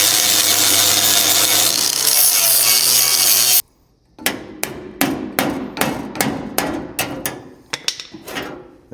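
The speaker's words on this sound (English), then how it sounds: "that one I'm going to use the angle grinder" An angle grinder bites into a spot weld on a car's rusted corner cap, giving a loud steady grinding whine for several seconds that cuts off abruptly, followed by a rapid series of sharp metallic strikes.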